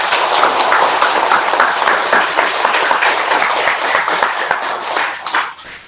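Loud, dense applause from a gathering at a Buddhist year-end ceremony after a poem reading, sustained clapping that rolls on for several seconds before easing off at the end.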